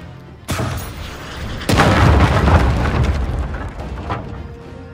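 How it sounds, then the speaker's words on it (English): An explosion in the tactical video game Jagged Alliance 3 sets off a sharp boom that gives way to a second, heavier blast, then a long, loud rumbling tail with debris that slowly fades. "Gina heard an explosion."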